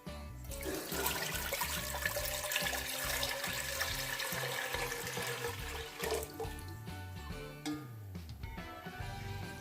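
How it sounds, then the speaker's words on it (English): Water runs and splashes steadily into a karai in a home kitchen, a continuous pouring rush with small shifts in flow near the end, close and alone without talk. "first take a karai and add some water in it"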